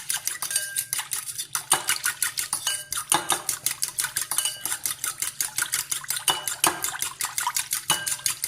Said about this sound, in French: Je mélange le tout avec une fourchette.